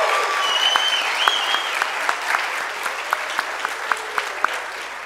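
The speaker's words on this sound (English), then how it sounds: "Please give a big round of applause to Carter and his family." Audience applauds a graduating high school senior at a church Senior Sunday service, steady mid-distance clapping from a crowd with scattered sharper individual claps and faint whoops.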